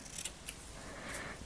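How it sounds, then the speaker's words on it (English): Scissors snip at a needle-felted gnome's wool moustache, giving two or three soft, close clicks against faint room hiss with no talking. "And with the moustache, we're just going to give that a little cut as well."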